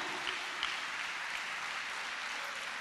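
A church congregation applauds, a steady wash of many hands clapping that stays even and fairly soft throughout, with no voices over it.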